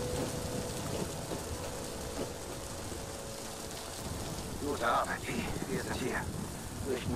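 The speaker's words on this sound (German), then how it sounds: "Schon ganz schön heftig hier, der Sturm." Heavy storm rain in the video game Medal of Honor Warfighter pours steadily as a dense hiss with a low rumble, while faint voices and brief clatters surface near the end.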